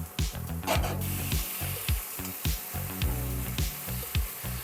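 A hilsa fish head goes into a hot pan of spiced oil. It sizzles, and repeated scraping and stirring strokes rasp along the pan in a steady rhythm.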